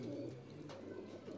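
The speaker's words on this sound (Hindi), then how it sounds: "ये उस ब्रीड के कबूतर हैं, बिल्कुल ओरिजिनल" Original Deobandi breed pigeons cooing softly in a loft, a faint, low, continuous burbling coo over a short stretch with no voices.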